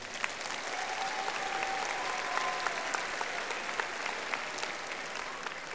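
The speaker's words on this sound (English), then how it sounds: "Please give them a big round of applause." A high school graduation audience applauds in a large hall, a long, even wash of clapping from many hands with scattered sharper claps, moderately distant and without pause.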